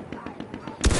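An MP18 submachine gun in Battlefield 1 fires a quick string of light, evenly spaced shots before a louder, close burst at the end, with faint talk in the background.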